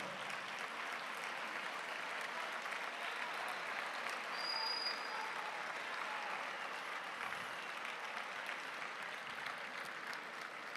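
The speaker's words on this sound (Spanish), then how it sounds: "Un fuerte aplauso, por favor." A conference audience at a Latin American progressive gathering breaks into sustained applause, an even, steady wash of clapping from a large crowd that holds without a break for about ten seconds.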